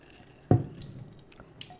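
Rinse water is poured off dry beans, a sudden splash into a sink followed by a brief fading trickle and a few small drips, heard close with no talking.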